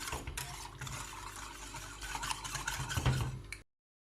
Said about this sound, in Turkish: Ve karıştırıyorum